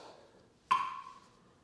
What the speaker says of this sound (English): go on YouTube and type in metronome 50 beats per minute and you'll get a metronome